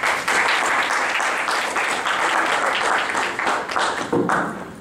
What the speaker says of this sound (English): put your hands in a round of applause for my brother Ahmed Nomadic